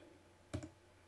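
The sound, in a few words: computer mouse right-click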